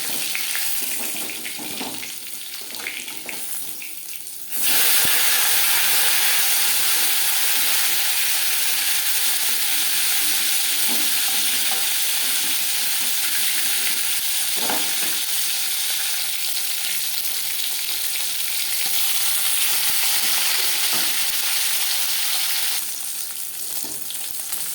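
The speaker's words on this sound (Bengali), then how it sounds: "মাছ একটা সাইড ভাজা হয়ে গেলে অপর সাইডটা উল্টে দেবো।" Fish frying in oil in a pan for a home-style Bengali fish curry, giving a steady, loud sizzle that runs almost the whole time, with a quieter stretch at the start and no talking.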